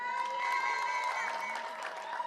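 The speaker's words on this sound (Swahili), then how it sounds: "makofi kwa governor" A crowd at the launch of the Horn of Africa Gateway Development Project in Isiolo applauds the governor with steady, dense clapping mixed with cheering voices throughout.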